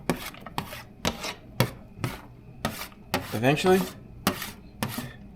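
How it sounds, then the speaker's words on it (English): Vegetables tipped into a pan of browning meat for shepherd's pie, giving a series of sharp taps, clatters and scraping rubs against the pan with a single brief spoken word. "just add the veggies in."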